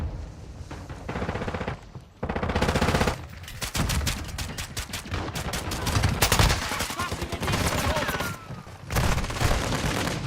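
Shotguns fire in Call of Duty: Modern Warfare III multiplayer, delivering dense, loud bursts of blasts mixed with heavy battle noise. Brief lulls break up otherwise continuous firing.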